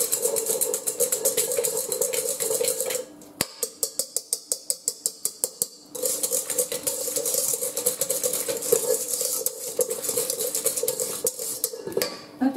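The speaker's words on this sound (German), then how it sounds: "Das tun wir jetzt einfach mit einem Schneebesen verrühren." Room-temperature quark is whisked by hand in a bowl with a metal whisk for a cardinal cake, giving steady close scraping and rapid rhythmic clinking, with a brief pause and a short burst of distinct regular taps partway through.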